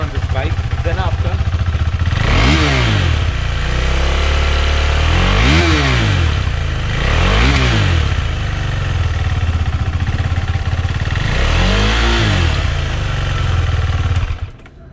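A KTM 390 Adventure single-cylinder motorcycle engine runs loud and close at low RPM, a steady throbbing idle that swells in periodic rev blips before cutting off at the end.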